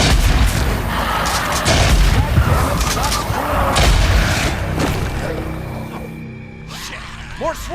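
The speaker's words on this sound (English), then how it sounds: "the player can use Molotovs to destroy them" Molotov cocktails burning out a freaker nest in the video game Days Gone: heavy booming blasts and roaring fire fill the scene, loud and close, then fade into crackling flames and scattered thuds, with speech mixed in.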